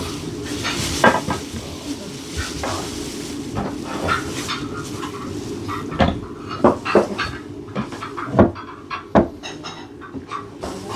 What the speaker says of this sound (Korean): 그러면 이거를 접시를 가져오겠습니다.